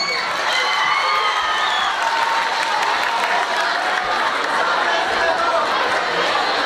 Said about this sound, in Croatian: I molim za jedan veliki aplauz za njih.